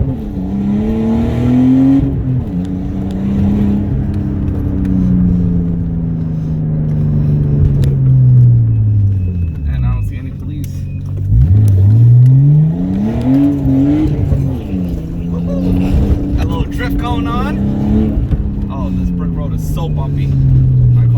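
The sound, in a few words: car engine revving in a sim racing video game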